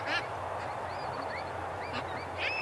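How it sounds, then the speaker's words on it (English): A row of ducks resting in the shade beside a chimney on a hot morning give off scattered short quacks and honks, several calls in a few seconds, over a steady background hiss. "there's just a row of ducks"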